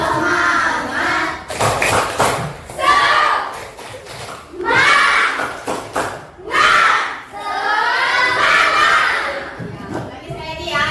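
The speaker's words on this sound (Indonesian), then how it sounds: "sekarang kita tepuk semangat dulu" Children chanting and clapping the tepuk semangat rhythm in a group, loud bursts of young voices alternating with quick claps, with a teacher's voice between the rounds.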